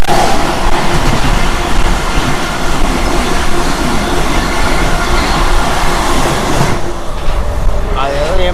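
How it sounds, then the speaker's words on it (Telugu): A moving passenger train, the Cherlapalli to Tirupati special, roars loudly and continuously with rumbling wheels on rails and a brief squeal near the end, heard from inside the carriage. "అంతే బండి అయితే మొత్తం బాగా లాగుతారండి ట్రైన్ని."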